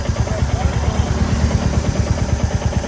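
A Royal Enfield Classic Reborn single-cylinder engine, fitted with a FuelX Pro Plus on lean-burn map 3 and running hot, idles loud and close with a steady, rapid knocking clatter that holds through the whole stretch.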